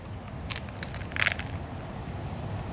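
A crunchy sushi-like street food roll from a Kyiv stall is bitten into, giving a few sharp, close crackling crunches over a low background noise.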